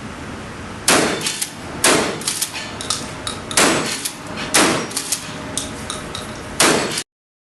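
A Ruger American pistol is fired about six times in a row, each sharp, loud report ringing out roughly a second apart.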